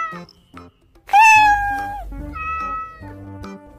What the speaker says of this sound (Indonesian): Wow, ini ada kucing warna abu-abu.